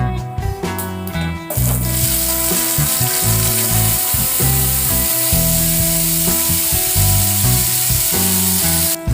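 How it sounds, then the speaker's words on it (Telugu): Potato and drumstick pieces fry loudly in hot oil with mustard and cumin seeds, making a strong, continuous sizzle with sputtering and scraping stir strokes. Brief quieter rattling comes before it. "నెక్స్ట్ ఆలు అండ్ డ్రమ్ స్టిక్ ఇవి ఫ్రై చేసుకుందాం."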